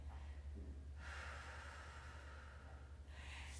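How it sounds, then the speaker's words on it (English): Slow, steady breaths during a gentle yoga flow for anxiety relief: a soft airy inhale and a longer exhale, close and quiet over low background hum, with no talking. "Mindful breathing."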